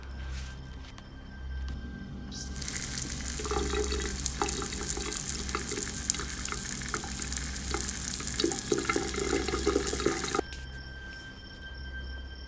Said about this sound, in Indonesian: suara keran itu kembali menyala